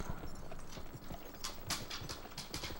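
Rhythmic clip-clop of horse hooves galloping at a steady pace in the video game Gun, moderately close, with sharper hoof strikes toward the end.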